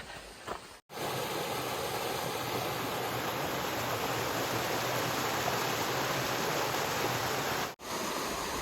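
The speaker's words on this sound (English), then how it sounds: "You're just following this creek along. I love it. Love that sound." Steady rushing water of a creek flowing beside the Appalachian Trail, broad and continuous, with no voices, cut by brief dropouts near the start and end.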